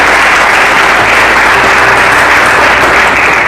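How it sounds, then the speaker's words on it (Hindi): A church congregation claps steadily in sustained applause through a worship service, loud and dense with no break and no clear talk over it. "यहां आपको ताली बजाना चाहिए खुदा के लिए।"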